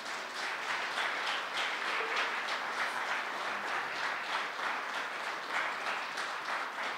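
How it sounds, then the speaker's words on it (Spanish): A church congregation applauding, a steady, fairly distant wash of many hands clapping that holds evenly throughout without any voices over it. "denle un aplauso al Señor"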